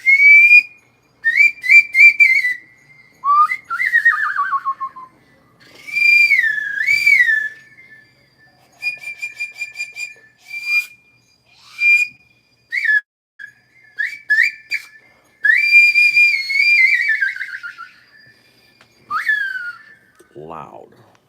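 A Mexican clay wind instrument, played by hand with the palm shaping a front hole, gives shrill, sliding whistles in repeated bursts, some warbling and bending in pitch, loud and close, with short gaps between phrases and no talk.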